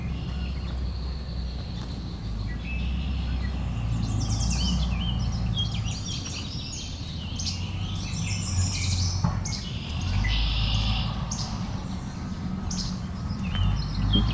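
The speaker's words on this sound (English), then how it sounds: "Some red-winged blackbirds having an argument here." Red-winged blackbirds call in quick, scratchy bursts and trills, several birds overlapping at moderate distance over a low rumbling background, with calls clustering around the middle and returning near the end.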